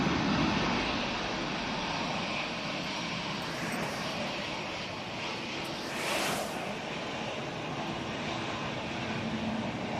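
Airplanes at Manchester Airport on a windy day give a broad, sustained jet engine roar that swells and fades slightly across the whole stretch, mixed with wind rumble.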